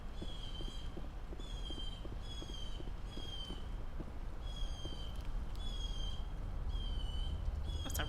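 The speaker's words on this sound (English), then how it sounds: "That's a loud bird." In the video game Mass Effect, a loud bird repeats a piercing, sharp call about eight times at a steady rhythm, over a constant background of rain patter and low rumble.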